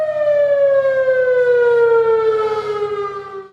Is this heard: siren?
yes